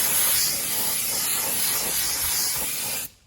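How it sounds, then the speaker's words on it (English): Brake cleaner sprayed from an aerosol can onto a Nissan NV3500 wheel hub, a loud, close, continuous hiss lasting about three seconds before cutting off abruptly. "So what I like to do is take a little bit of brake cleaner"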